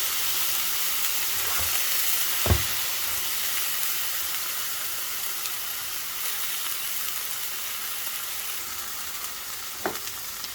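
A seasoned beef burger patty fries in a pan with a steady, even sizzle throughout, broken by a sharp knock around the middle and a lighter tap near the end as it is flattened with a press.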